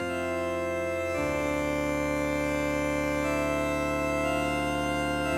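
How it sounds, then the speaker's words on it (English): Held organ and string chords from the RES-09 plugin, a Roland RS-09 emulation, ring through a spring reverb effect, changing chord once early on and sustaining evenly at moderate loudness without any voice. "Spring reverb."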